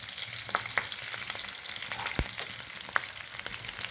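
Green chillies fry in a pan, a steady close sizzle and crackle with scattered sharp pops and occasional stirring scrapes, with no voices.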